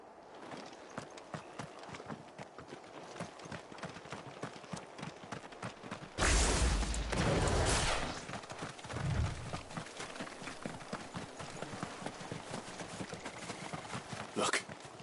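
Horse hooves clip-clop in a steady galloping rhythm in the video game Final Fantasy XVI, with a louder rush of movement partway through and a brief burst near the end.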